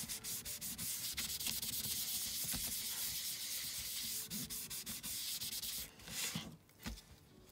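An eraser rubs out a pencil line on a paper card in quick back-and-forth scrubbing strokes, close and soft, pausing briefly before a final few rubs.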